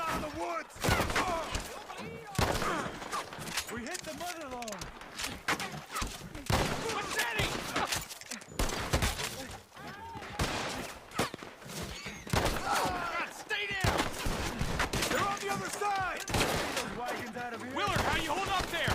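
Rapid bursts of shotgun fire in Red Dead Redemption 2 crackle over a continuous dense mix of sound effects, with a voice talking over it throughout.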